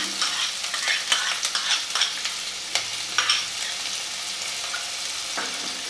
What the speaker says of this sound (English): I will fry this till it's turned golden brown in color.